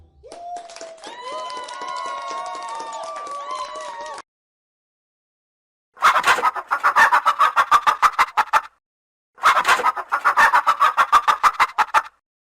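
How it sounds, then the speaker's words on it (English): Hen sounds: a long, drawn-out crowing-like call first, then two separate bursts of rapid, choppy clucking, close and loud with silent gaps between. "Hen."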